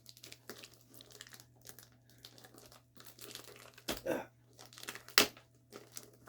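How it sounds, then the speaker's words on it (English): Plastic wrapping on a small FireX FX1218 smoke detector box is torn open by hand, irregular crinkling bursts with a couple of louder rips, close up and without speech. "Guess I'll just try not to crush the box while I'm just tearing the whole thing open."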